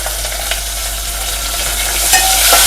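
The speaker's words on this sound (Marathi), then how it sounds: "तो चांगला परतून घ्यायचा तेलामध्ये." Chopped onion sizzles steadily in hot oil for a Sankranti bhogi vegetable dish, with a few scraping stirs of a spoon against the pan. The frying is loud and close throughout, building slightly near the end.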